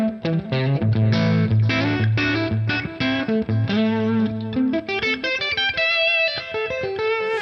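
An electric guitar through a modeled, distorted TONEX amp tone plays a riff of sustained chords and quick melodic notes, loud and alone.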